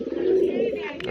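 Domestic pigeons coo in a loft where a hen is about to lay eggs, a soft, steady, close-up burbling that goes on without a break.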